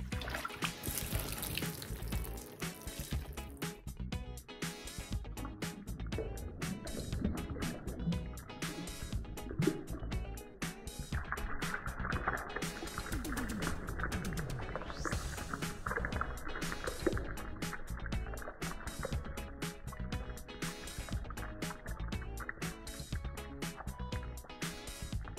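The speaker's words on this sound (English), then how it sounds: "Pour water over myself." Water from a bottle poured over a seated person, a steady splashing and trickling stream that runs on continuously for a long stretch, fairly quiet and close.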